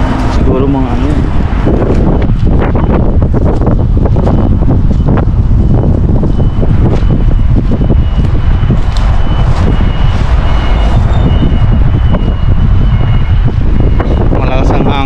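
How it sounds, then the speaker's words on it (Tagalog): Strong wind buffets the microphone in a steady rumbling roar, with people talking underneath it throughout. "Malakas ang hangin."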